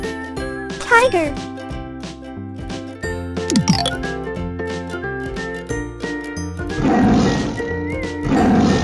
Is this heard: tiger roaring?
yes